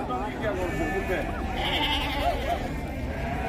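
Several goats bleat at a sheep and goat market in Cachoeirinha, Pernambuco, over a steady background of voices and crowd noise, their wavering calls rising now and then.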